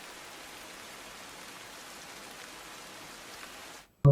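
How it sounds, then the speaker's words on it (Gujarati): Steady rain pours down over Navsari in a dense, even hiss for a few seconds, ending abruptly in a brief burst of other sound. "સતત વરસાદ વરસી રહ્યો છે"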